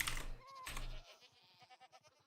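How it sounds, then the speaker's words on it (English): Goat bleating in Minecraft, with one or two short nasal bleats up front followed by quieter clicking game sounds and faint rhythmic taps. "goat."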